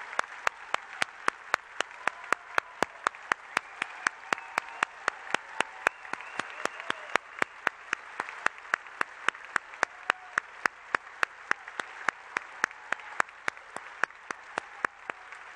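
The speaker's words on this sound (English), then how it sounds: "I want to just celebrate you and give you a round of applause." Steady clapping from a literary gala audience continues throughout, with sharp individual claps standing out over a dense, even wash of applause.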